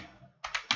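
A few quick keystrokes on a computer keyboard while typing web-design code, three sharp clicks close together after a brief quiet tail of fading voice.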